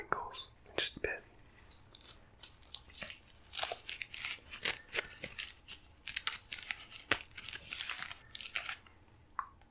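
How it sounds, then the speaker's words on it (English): A Taco Bell paper bag is crinkled and rustled close up in bursts of crisp crackling and tearing-like rustles, with soft whispering mixed in. "I'm going to do some more bag crinkles in just a bit"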